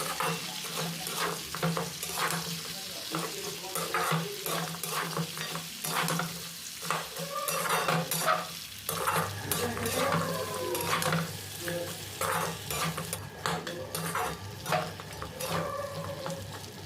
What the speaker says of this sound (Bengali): আদা রসুনটা দিয়ে আবারও দু তিন মিনিট এইভাবে নাড়াচাড়া করে যেতে হবে